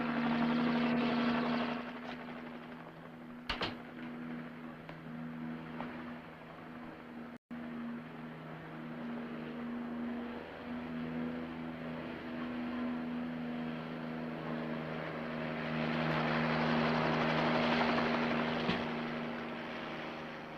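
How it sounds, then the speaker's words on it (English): A helicopter drones steadily with a constant low rotor hum that swells louder toward the end, with no one speaking. "Kim, look, that's a helicopter."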